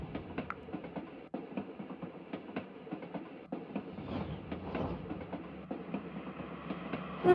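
Train rolling on rails in the cozy video game Little Witch in the Woods, a steady rumble with rhythmic clacks recurring throughout, moderately close and alone with no talking.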